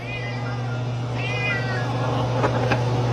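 A pet cat meows loudly and close, two drawn-out calls followed by a few sharper sounds, over a constant low hum.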